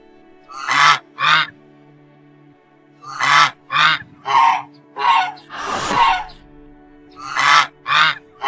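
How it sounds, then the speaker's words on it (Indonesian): A goose honks repeatedly, loud and close: about eight harsh, nasal honks in uneven bursts, with a breathy hiss or gasp in the middle. "Angsa!"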